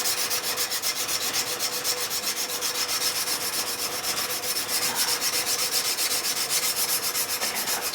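Continuous abrasive sanding against a steel knife blade to remove grind lines, a steady, even rubbing rasp held close and fairly loud for the whole stretch, with no voices.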